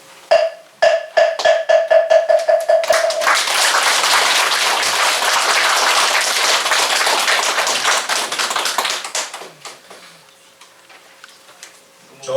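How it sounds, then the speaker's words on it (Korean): At a Buddha's Birthday dharma service, rhythmic sharp wooden taps with a ringing tone come first, then the audience bursts into loud, dense applause for several seconds that gradually thins and fades into quiet. "좋은 법문을 들려주신 법사님께 다시 한번 감사의 박수를 부탁드립니다"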